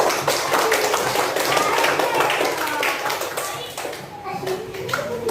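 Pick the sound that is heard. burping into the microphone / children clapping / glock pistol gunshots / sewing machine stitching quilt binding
children clapping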